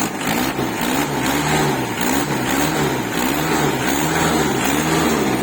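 A Kubota L2600 single-axle tractor engine runs loud and close, revving in repeated rhythmic surges over a steady mechanical rumble.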